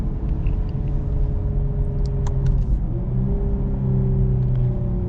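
The V6 of a 2024 Lexus IS 350 F-Sport gives a steady, grunty drone from inside the cabin while driving. The pitch dips and climbs again partway through as it shifts, with faint clicks on top.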